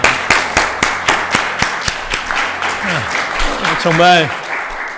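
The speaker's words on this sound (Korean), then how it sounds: "우리 예배를 받으신 하나님께 감사와 영광의 박수 올려드리겠습니다" A church congregation claps at the close of a Sunday service, sharp hand claps ringing out, then a speaking voice with sliding tones takes over.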